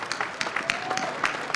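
Applause at a car auction for a classic Aston Martin, a crowd clapping steadily and moderately close under ongoing talk.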